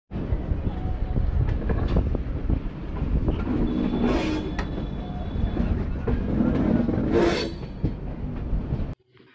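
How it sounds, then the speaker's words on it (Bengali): An express train from Kolkata toward Ayodhya runs at speed just after leaving Dakshineswar station, heard from onboard as a loud, continuous rumble and rattle of wheels with brief squeals and faint voices, before it cuts off abruptly. "দেখুন এখন ট্রেন কত স্পিডে চলছে"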